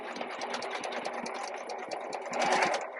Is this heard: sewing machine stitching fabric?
yes